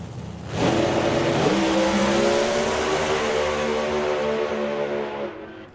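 A doorslammer drag race car launches hard down the track, its engine roaring up in pitch and howling loudly as it pulls away, then gradually fading into the distance.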